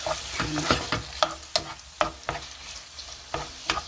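Gochujang stir-fried in a pot for gochujang jjigae, with repeated sharp scraping strokes of a utensil against the pot over a soft sizzle, close up and rhythmic.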